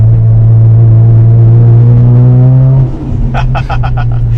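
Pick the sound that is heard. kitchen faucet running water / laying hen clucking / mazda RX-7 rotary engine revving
mazda RX-7 rotary engine revving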